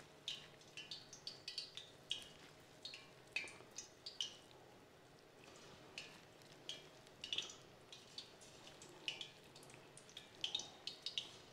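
Small pakoras sizzle in hot oil for restaurant-style kadhi pakora, a faint, soft crackle with scattered light pops and bubbling, quiet and close with no talking.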